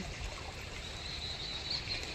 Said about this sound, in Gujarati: પાણી આવેલું જાય છે ખળખળ ખળખળ